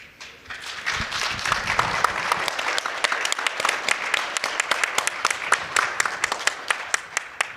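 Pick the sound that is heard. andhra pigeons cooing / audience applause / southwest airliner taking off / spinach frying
audience applause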